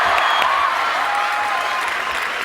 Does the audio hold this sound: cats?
no